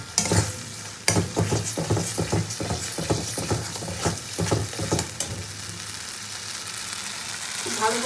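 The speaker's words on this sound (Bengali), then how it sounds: "ভালো করে মশলাটা কিন্তু কষিয়ে নেবো।" Spice paste mixed with yogurt stir-fried in a pan for a vegetable curry, with a steady sizzle broken by repeated scraping strokes of a spoon in the first five seconds before the frying settles.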